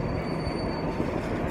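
A heritage railway train in Bo'ness runs along the track with a loud, continuous rumble of wheels on rail and a thin steady squeal above it, close by and with no talk.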